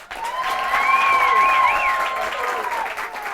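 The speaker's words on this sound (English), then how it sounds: "I'd like to have a very big round of applause for Miss Access Achievement, Kelly Talley." Audience applause at an awards ceremony, a sustained wash of clapping with cheering tones rising over it, loud and continuous for a few seconds.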